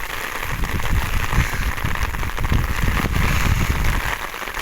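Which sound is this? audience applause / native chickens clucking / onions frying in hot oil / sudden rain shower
sudden rain shower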